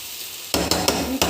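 Kerala-style drumstick flesh (muringakka) curry stirred in a pan with a spoon: after a quiet start, four loud scraping, sizzling strokes come close up in a steady rhythm.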